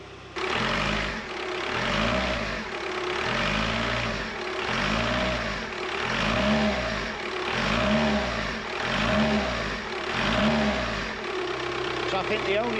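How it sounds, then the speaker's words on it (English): An engine-swapped VW Caddy engine revs up and down in a steady repeating cycle, about six rises and falls of mid-pitched engine roar, loud and close, with a rough idle settling at the end. "You tried revving it up"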